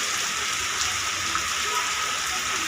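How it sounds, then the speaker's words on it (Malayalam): Heavy rain falls outside near a temple as a constant, even hiss with no breaks, close and fairly loud. "നല്ല മഴയൊക്കെ പുറത്ത്"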